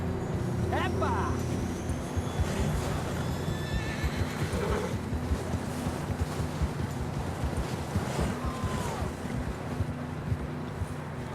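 Horses in Red Dead Redemption 2 whinnying and snorting over steady hoof clip-clop on rough ground, with wind rushing throughout and a few brief calls in the background.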